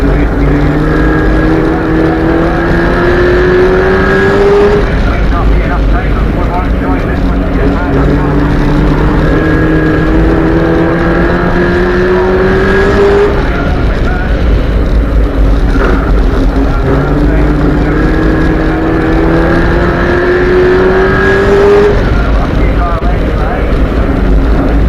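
A Renault Clio prostock race car laps Crimond Raceway, its engine loud and close, repeatedly climbing through the revs in rising whines and shifting gears, with a steady roar throughout.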